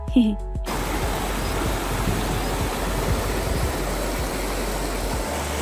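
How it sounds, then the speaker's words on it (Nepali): Steady broadband rush of water flowing in a mountain stream in Nepal, continuous and fairly close, preceded by a brief moment of other sound at the start. "माथि चाहिँ पानी बग्ने खोला छ है।"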